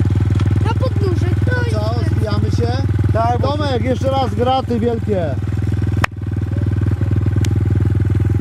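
A motorcycle engine runs steadily nearby, a loud, constant low drone, while several people talk over it with excited, animated voices.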